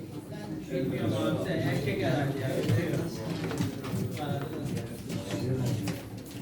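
Pigeons coo steadily through a lively pigeon auction in Çorum, Turkey, the soft repeated calls mixed with a crowd of voices and bidding talk.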